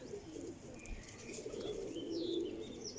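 Pigeons coo softly at a breeder's loft, with low murmuring calls and faint chirps rising over quiet ambient noise. A brief wing flutter sounds partway through.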